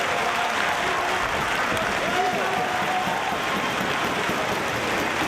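A large crowd claps and cheers continuously, a dense roar of applause filling the space with no pauses.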